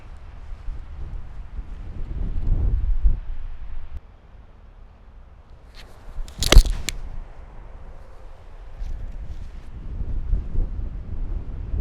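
Heavy 20 mph desert wind buffets the microphone on a golf course, a low rumbling roar that swells and fades across the whole stretch, broken once by a sharp club strike.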